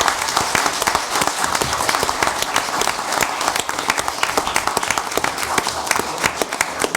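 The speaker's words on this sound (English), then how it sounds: "how about a round of applause for our chief, our assistant chief, and our fire inspector?" An audience at a Tenafly council meeting in 2017 gives a sustained round of applause for the fire chief, assistant chief and fire inspector, dense even clapping filling the room without a break.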